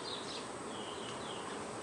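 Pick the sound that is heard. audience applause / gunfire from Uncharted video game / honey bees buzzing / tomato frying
honey bees buzzing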